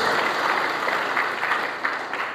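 A church congregation gives brief, dense applause, a close, even wash of clapping that holds steady throughout.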